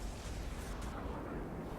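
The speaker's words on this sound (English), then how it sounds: "And there goes Purple firing the unit cannon." A unit cannon fires in a video game match, giving a dense, roaring blast that fills just under two seconds at steady loudness with no voices over it.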